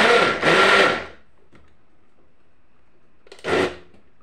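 A blender making a smoothie whirs loudly for about a second, stops, then gives one shorter burst a few seconds later, with quiet between.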